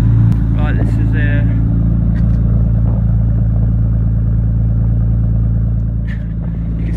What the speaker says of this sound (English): let's have a quick sound of the exhaust and give you an idea what it sounds like.